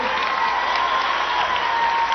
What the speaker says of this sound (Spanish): Quiero que le demos un fuerte aplauso a los músicos, a las músicas, al coro.